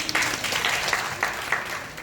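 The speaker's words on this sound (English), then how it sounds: "Let's give him a round of applause." An audience applauds at a tourism event in the convention center at Henann Beach Resort in Panglao, with dense, steady clapping for about two seconds that eases slightly at the end.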